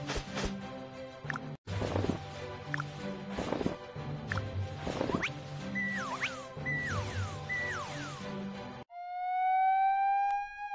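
Cartoon fire engine siren wails at close range as a rescue crew sets off, rising and falling over busy music and effects before a final sustained siren tone rings out alone.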